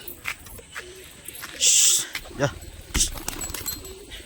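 A Rajshahi Giribaz pigeon gives a few short soft coos close by, amid rustling and brief sharp bird sounds.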